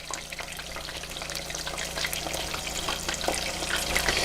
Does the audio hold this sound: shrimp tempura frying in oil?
yes